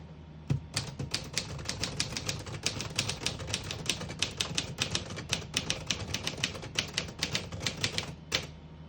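A 1950 Smith-Corona Silent portable typewriter typed at a steady pace, with crisp, close keystrokes clicking in quick succession for several seconds and a carriage-return clunk near the end.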